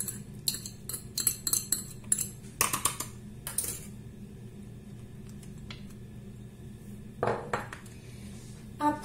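Tomato paste and two onions go into a pan, giving scattered clinks and scrapes of utensils against cookware, several quick bursts early and another later over a low steady background hum.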